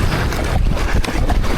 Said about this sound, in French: on pagaie, on pagaie,